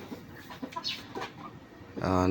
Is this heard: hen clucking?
yes